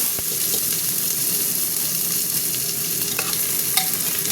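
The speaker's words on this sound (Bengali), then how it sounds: "এবার পেঁয়াজগুলো দিয়ে দিচ্ছি।" Onions sizzle in a pan with dried red chillies and crushed whole garam masala, a steady close frying hiss broken by scraping stirs. No one speaks.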